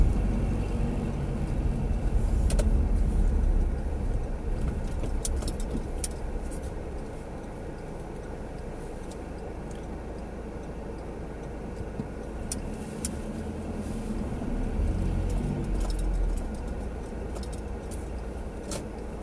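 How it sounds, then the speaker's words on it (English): Road traffic streams steadily into a town, cars and taxis passing as a continuous moderate rumble and wash, with a few faint ticks, recorded from inside a moving vehicle with no talk. "Look at all of these cars and taxis coming into this town, flooding this town."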